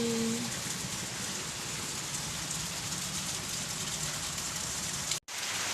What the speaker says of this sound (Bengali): সকাল থেকে বৃষ্টি, কখন যে বৃষ্টিটা থামবে?